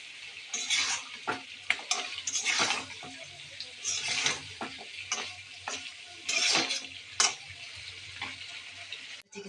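Fish and lentil dumplings are stirred in a frying pan, with repeated scraping strokes and soft sizzling in irregular bursts, moderately quiet and close.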